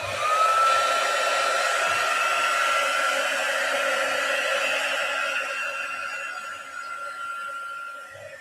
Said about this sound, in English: then we will get the heat gun